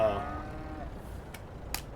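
Cows in Farming Simulator 22 give a short low moo at the start that trails off, followed by quiet background with a couple of faint clicks.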